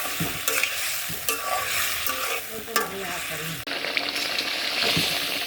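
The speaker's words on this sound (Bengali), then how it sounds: "মাছটা কষায় নিচ্ছি" Hilsa fish stir-fried in a hot pan, a steady loud sizzle with repeated scraping stirs of a spatula, continuing close up without talk.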